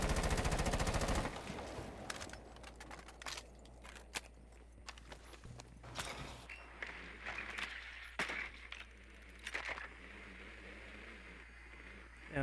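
Rapid gunfire from a heavy-recoil weapon in Rainbow Six Siege crackles in short bursts and single sharp shots, scattered among footsteps and movement, fairly close, with occasional talk.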